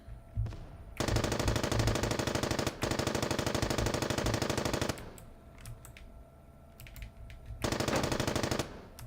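An aircraft gunner in a video game fires a machine gun in long rapid bursts, a dense loud rattling stream that stops and restarts, with quieter game sounds between the bursts.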